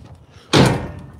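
A door being opened at a haulage yard, one loud sudden clunk and scrape that rings out briefly, close by, with faint background noise before it.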